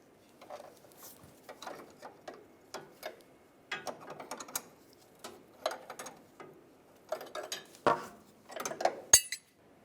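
Metal-on-metal clicks and ratcheting taps as 21mm and 16mm line wrenches loosen fuel line fittings on a 1999-2006 Chevrolet Silverado 1500 with a 4.8L V8, a close, irregular series of sharp clinks.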